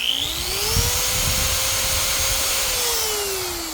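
Corded power tool running in hammer mode at maximum setting off a Ugreen PowerRoam 1200 power station, a loud steady whine that rises and holds in pitch over continuous rumbling hammering, close and alone.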